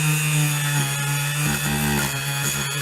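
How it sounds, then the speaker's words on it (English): Sanding a cracked surface on a Cliffs Hornet 3600 to give it tooth for epoxy, a loud continuous close-up rasping drone with steady tonal whine and slight rhythmic variation, no talk. "This is just giving it a good clean surface with a bit of tooth to help the epoxy stick to it."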